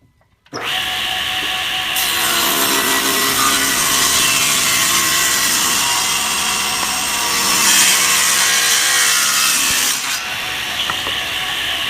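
A table saw rips a board into 1.5-inch strips, a loud steady blade roar sustained for about ten seconds, starting abruptly and winding down at the end.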